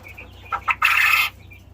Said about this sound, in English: That's how a quail crows, if you didn't know.